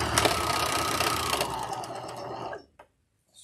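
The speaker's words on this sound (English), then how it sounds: "Serger spitting fabric out." Serger sewing machine stitching fabric runs in a loud, fast continuous whir close up for about two and a half seconds, then stops abruptly, leaving near silence.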